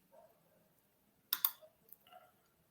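Two quick mouse clicks close together on a computer, followed by a faint tick, quiet and isolated.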